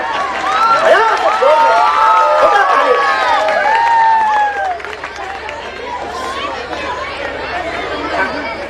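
Audience applause and cheering welcoming Shailesh Lodha at a Hindi poetry gathering, loud dense clapping mixed with crowd chatter that fades to a lighter murmur.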